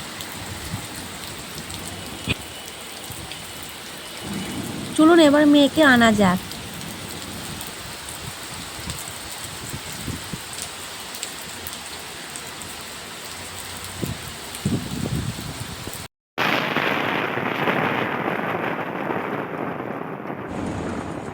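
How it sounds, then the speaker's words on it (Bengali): Heavy, steady downpour of rain drumming on surfaces outdoors during a school pickup, continuous and loud throughout, with someone briefly speaking over it and a louder, rougher burst of rain near the end. "সকাল থেকে যা মুসলধারায় বৃষ্টি পড়ছে"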